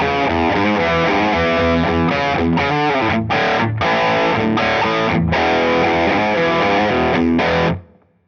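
Slightly crunchy electric guitar chords strummed through a Strymon Iridium amp modeler on its Marshall setting, loud and sustained with brief gaps, ending in a quick fade.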